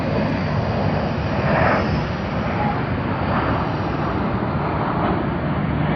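Cathay Pacific flight CX110 departs Sydney Airport for Hong Kong, a broad, steady jet engine roar filling the air at constant loudness with a slight swell early on.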